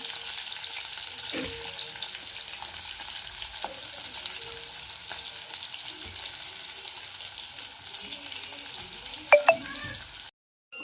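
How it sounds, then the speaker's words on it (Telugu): Cloves and cardamom sizzle in hot oil in a kadai, a steady broadband frying hiss running nearly the whole time with a few brief stirring clinks near the end before it cuts off. "కడాయి పెట్టుకున్నాడు ఆయిల్ వేసుకున్నాను అందులో కొన్ని లవంగాలు ఇలాంచి కూడా పెట్టుకున్నాను"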